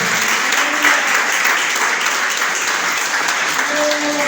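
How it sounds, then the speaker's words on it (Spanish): A church congregation applauds the Lord during a Spanish-language sermon, a loud, dense and sustained wave of clapping filling the room without a break. "Denle un aplauso al Señor."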